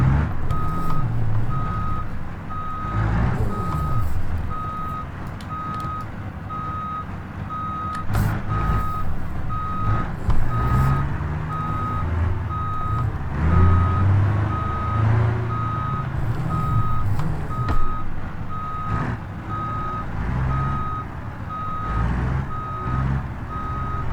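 A truck backing a trailer in blindside, its reversing alarm beeping steadily and evenly throughout, over a low diesel engine rumble and occasional clanks.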